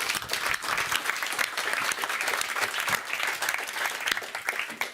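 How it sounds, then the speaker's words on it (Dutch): A live audience at a public event claps steadily and fairly loudly for a few seconds, a dense, continuous round of applause with no talk over it. "Applaus voor Gitte Brugman."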